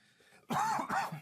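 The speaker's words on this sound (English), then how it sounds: "Sorry, I have a chronic cough." A single harsh, chronic cough in two quick bursts after a moment of near silence, fairly close and clear.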